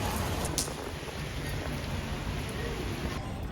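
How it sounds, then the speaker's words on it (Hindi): Rain falls around a rooftop as a steady, even hiss that holds at the same level throughout, with no voice over it. "देखो, दिख रही है तुम्हें बारिश?"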